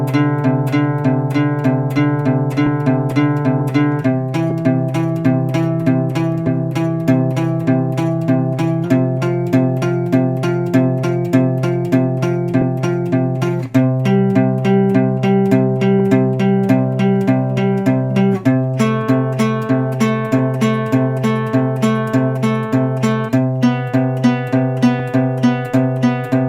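A guitar plays a slow series of sustained major chords and harmonies, each ringing for several seconds before shifting to the next, clean and close with no voice.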